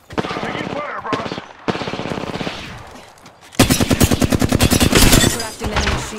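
Automatic weapon fire in the video game Apex Legends: rapid bursts of close, loud shots, with a long continuous rattling burst in the second half, mixed with game sounds.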